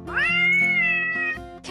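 A single drawn-out cat meow, rising then holding steady before tailing off, close and clear with no talking.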